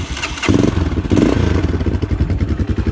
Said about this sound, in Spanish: Ahí tenemos el ruido del escape.